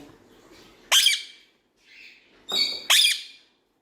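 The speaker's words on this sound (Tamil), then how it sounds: "நீ எப்படி சித்து ஃபுட் கையில் எடுத்தோடனே ஒரு சவுண்டு கொடுத்துட்ற" Pet talking parrot giving loud, sharp squawks close by, with two bright bursts and a softer call between them over a quiet room; no speech.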